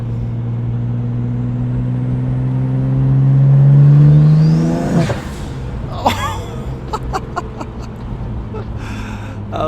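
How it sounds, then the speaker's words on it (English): A BMW 135i with twin turbos and straight-pipe exhaust builds a loud, rising engine drone, then drops into crackles and sharp pops near by, with a voice briefly in the background. "But overall, man, the turbos sound insane."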